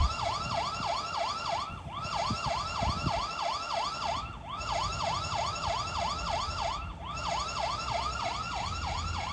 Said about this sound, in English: so it offers a siren mode.